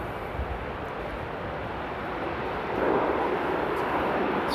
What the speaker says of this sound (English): So there's a plane taking off from runway 22